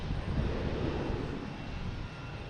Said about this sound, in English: This is the E175, American Airlines heading to Indianapolis.